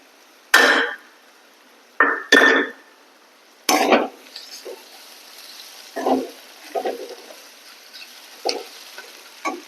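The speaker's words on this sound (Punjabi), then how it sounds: "ਆਪਾਂ ਪਿਆਜ਼ ਨੂੰ ਭੁੰਨ ਕੇ ਤੇ ਥੋਮ ਨੂੰ ਫੇਰ ਪਾਉਣਾ" Onion, garlic, ginger and green chili cooking in a pan for a spiced pumpkin sabzi, with loud bursts of stirring and scraping over a steady low sizzle, strongest in the first seconds and then quieter intermittent stirs.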